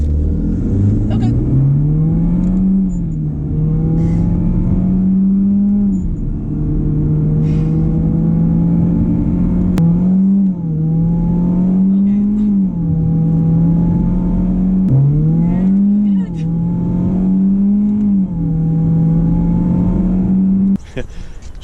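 A Hyundai Genesis Coupe with a turbo tune accelerates hard, its loud engine note climbing repeatedly through the revs and dropping at each gear change, a close, continuous roar.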